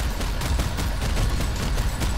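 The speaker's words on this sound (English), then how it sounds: "Preemptively firing on him, Chase." Gunfire in Planetside 2, a steady rattle of rapid automatic shots with no pauses, fairly loud and dense against a rumbling background.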